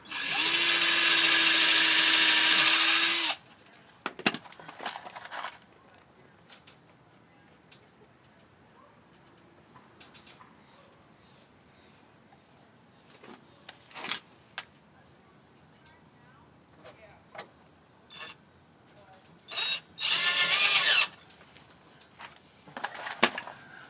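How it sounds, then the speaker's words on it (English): A power drill drives short screws into model railroad benchwork in a loud burst of a few seconds at the start and another near the end, with scattered clicks and knocks of handling between them. "I just sight by eye to get my drill lined up."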